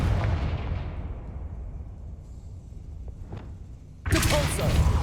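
A Confringo blasting spell goes off in Hogwarts Legacy: a sudden loud, close burst of broadband noise cuts through a quieter ambient rumble and is sustained to the end, with no speech alongside.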